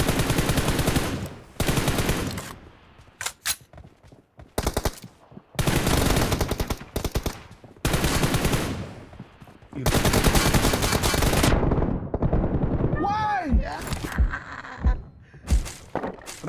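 Rapid bursts of gunfire from a mobile shooter game in a one-on-one team deathmatch, loud sustained volleys broken by short pauses, with sharper single shots and impact effects near the end.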